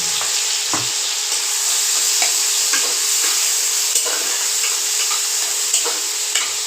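Ginger, onion, garlic and tomato, grated, go into hot oil together with slit chili, giving a steady close sizzle with light stirring scrapes and small crackles throughout.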